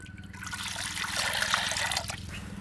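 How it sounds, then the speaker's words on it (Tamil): Water poured into a pot for palm tuber flour dough while making traditional panang kizhangu kali, a steady close splashing pour filling the whole moment with a low hum beneath and no talk. "தண்ணி சேர்த்துக்கலாம்"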